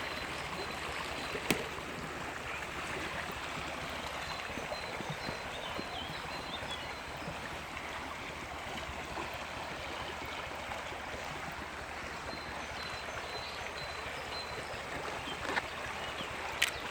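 A river flows steadily during a nature walk in Konuralp, Düzce, its continuous broadband rush filling the whole stretch without pause, close and even in level, with only a couple of faint clicks on top.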